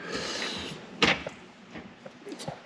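Toolbox drawers in a workshop slide and knock, with one sharp clack standing out amid softer rattles and small metallic bumps, fairly close and with no talking.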